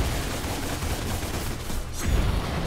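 Rapid gunfire from the player's guns in DmC: Devil May Cry, shooting at a demon's face during a fight, heard as a dense, continuous burst of shots with game effects swelling louder near the end.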